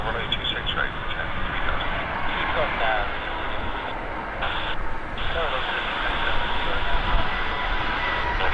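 An Airbus airliner arriving at Vancouver airport, a continuous broad engine roar and rushing air holding steady throughout, with radio chatter faintly underneath.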